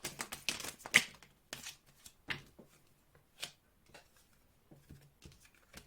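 Tarot cards being shuffled by hand in quiet bursts of riffling and soft flicking, with irregular pauses between handfuls; close and fairly faint, no talking.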